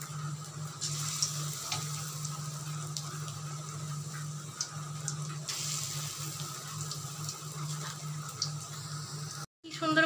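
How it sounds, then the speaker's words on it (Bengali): Chicken pakoras deep frying in hot oil, a steady bubbling sizzle with a constant hiss and a low hum throughout, plus occasional sharper pops and clicks. It stays close and even, with a brief dropout near the end. "কি সুন্দর ভাজা হচ্ছে, এটা ডিপ ফ্রাই করে নেওয়া হচ্ছে।"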